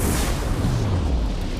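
Daytime fireworks bursting overhead, heard as a dense, continuous rumble of booms and pops that stays steady and fairly loud across the whole stretch, with no voices.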